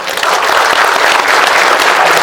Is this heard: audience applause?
yes